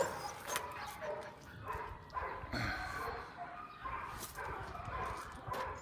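A rescue dog whimpers and yips in short bursts mixed with a few barks, close by, with voices faintly underneath.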